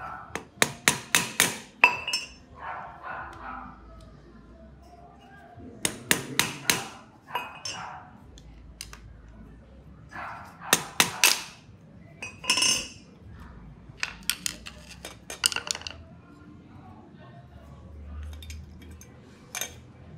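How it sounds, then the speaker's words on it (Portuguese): Sharp metallic hammer blows tapping out the steering lock bearing on a Volkswagen Kombi, coming in quick clustered bursts of light strikes with short pauses between, close and fairly loud with faint background noise. "Vou ter que dar umas batidas aqui por trás para ele ir saindo"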